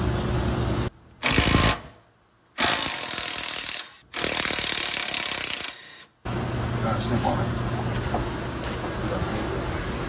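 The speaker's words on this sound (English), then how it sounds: "So grab a 14 socket and you should be able to get those loose." A hand ratchet with a 14 mm socket loosens the coilover bolts on an S2000, giving bursts of rapid metallic clicking broken by short pauses, close to the microphone and loud.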